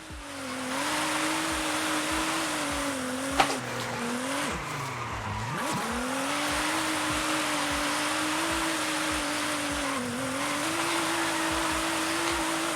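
Car engine revving and tires squealing in Forza Horizon 5, with a sustained engine drone that dips sharply midway and then climbs back, alongside skidding squeals and a brief sharp click near the start.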